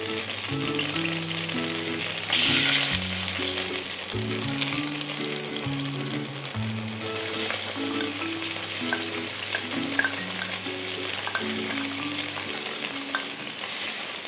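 Sliced onion and garlic sauté in a hot pan, a loud continuous sizzle and crackle with stirring scrapes, plus a tonal droning hum through the first half.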